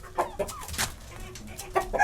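Rooster clucking nearby, several short rough clucks and calls in an irregular rhythm.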